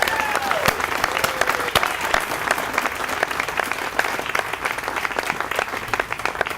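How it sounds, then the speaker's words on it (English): An audience at a 30th anniversary event for the 1984 Olympic Games applauds the staff, a dense, sustained round of clapping from a crowd indoors, steady and loud throughout. "So please, a round of applause for them."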